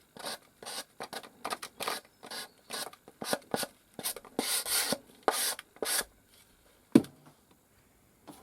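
Sandpaper wrapped on a cork block is rubbed over a surface in short, rhythmic scraping strokes, close and crisp, about a dozen passes with brief pauses between, then a faint thump near the end.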